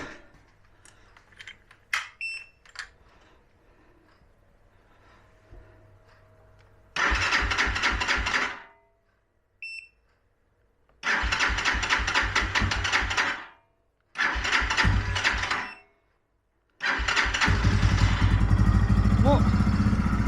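A carburetted Nibbi motorcycle, cold after standing for two weeks with the choke on, is cranked several times; the engine catches in loud, rough bursts that cut out between attempts, then keeps running steadily at the end.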